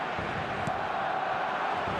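Stadium crowd noise from an eFootball match plays as a steady, dense roar of massed voices, continuous and fairly loud, with a faint voice or two rising briefly through the din.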